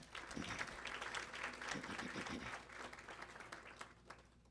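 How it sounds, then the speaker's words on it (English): An audience at a South Florida Muslim organizations event applauds steadily for several seconds, a dense wash of many hands clapping that tapers slightly at the end. "Please give them a round of applause, please."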